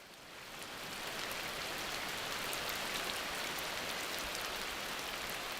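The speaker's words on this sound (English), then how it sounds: "For many animals, the daily downpours of the rainy season provide a welcome break from the stifling heat of the dry months" Heavy tropical rainy-season downpour in the Amazon rainforest, a dense steady hiss of rain pattering on foliage that swells in over the first second and then holds constant and fairly close, with no voices.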